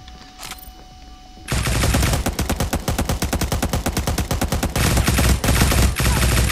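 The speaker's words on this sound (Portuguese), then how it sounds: "ele tinha uma arma violenta, eu errei muito tiro" Rapid automatic gunfire from a powerful weapon in the battle-royale video game Cyber Hunter, a loud sustained burst of closely spaced shots after a brief quieter lead-in, no talking.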